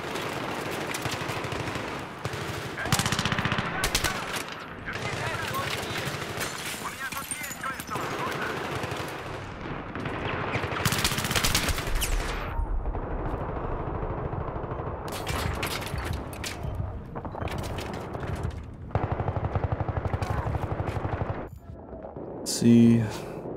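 Battlefield 3 gunfire on the Metro Conquest map: repeated machine-gun bursts and single shots in uneven spurts, loud and near, with someone talking over parts of it.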